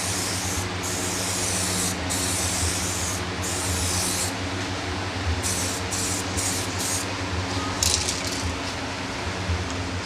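A thick protective coat is sprayed onto a BMW 3 Series headlight. The hiss runs steady and loud through the whole clip, with only brief dips.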